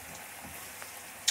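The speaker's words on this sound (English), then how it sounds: "butter and olive oil mix is foaming nicely, nice and brown" Butter and olive oil foam and fry in a pan with parsley, garlic, salt and pepper, making a steady, faint sizzle that ends in a brief sharp crackle.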